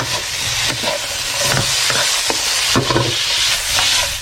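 Vegetable filling with a little sesame oil stir-fries in a hot pan, a steady close sizzle broken by repeated scraping strokes of a spatula, with no voices.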